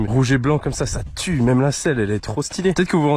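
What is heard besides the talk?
No everyday noises stand out.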